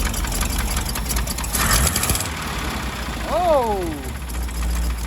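A 1977 GMC 6500 truck with a 366 big block engine runs at a steady rumbling idle throughout, close by, while a man exclaims briefly over it.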